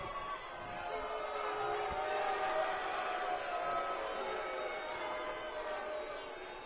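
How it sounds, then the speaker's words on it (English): Indoor wrestling crowd in Gainesville jeering and booing, a sustained wash of many voices rising and holding steady across the whole stretch. "the boos for the Manchester man from this Gainesville crowd, they are audible"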